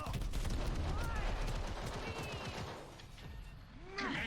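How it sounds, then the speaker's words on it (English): Continuous exchange of video game gunfire in Genshin Impact, dense overlapping shots forming a steady loud barrage throughout, dipping briefly near the end before picking up again. "Exchanging fire!"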